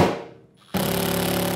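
A power drill drives screws to mount a projector screen bracket, a brief spin-down followed by a sudden loud, steady rattling whir as the screw is zipped in.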